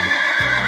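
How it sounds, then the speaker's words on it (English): A horse gives a single loud, close neigh, a bright, shrill whinny that holds for under a second. "Nay, here comes a horse."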